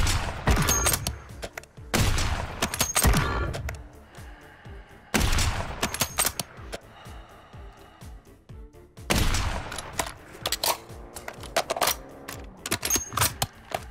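Sniper rifle shots in Warzone 3, four loud, sharp cracks spaced a few seconds apart, each followed by clattering, metallic rattling and fainter scattered noises in between.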